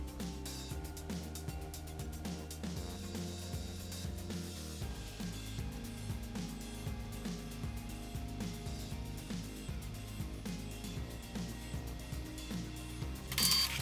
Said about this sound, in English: Let's do a quick test print.